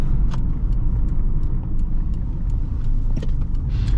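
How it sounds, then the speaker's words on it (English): A 2006 Subaru Forester 2.5 X engine rumbles low and throaty as the vehicle drives, a rough, raspy drone with occasional light rattles and clicks over it. "I like how this engine sounds. It's like a little raspy, cool sound."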